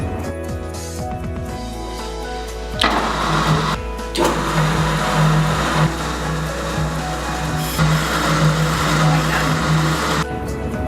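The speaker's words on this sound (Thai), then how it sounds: "ทำการเจียหยาบโดยใช้มือหมุน หลังจากนั้นเจียละเอียดเป็นระบบอัตโนมัติ" A brake lathe machines a brake disc, steadied against vibration by a belt, first in a rough hand-fed cut and then in an automatic fine cut, giving a continuous motor whir with a steady tonal hum and scraping cutting noise.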